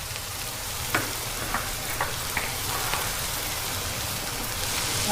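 Usal masala sizzles steadily in a pan, with a constant frying hiss broken by a few sharp spoon taps and scrapes from stirring.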